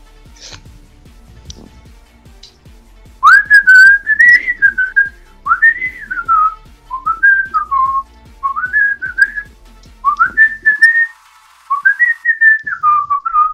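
A person whistles a lively, repeated melodic tune of short rising and falling phrases, loud and close, during a Pokémon Sun and Moon OU battle, with soft clicking and faint background noise in the first few seconds before the whistling starts.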